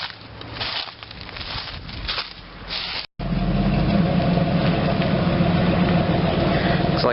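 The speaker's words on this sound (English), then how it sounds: "I swear I hear a V8 pulling up" A tow truck's V8 engine idles and rumbles nearby with a deep, steady throb, briefly cutting out before growling on continuously.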